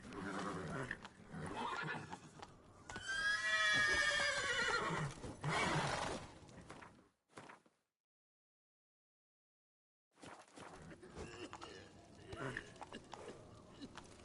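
A horse named Roach, Geralt's mount in The Witcher 3: Wild Hunt, gives a loud whinny with snorting and hoof sounds, then falls silent briefly before quieter movement and ambient game sounds resume.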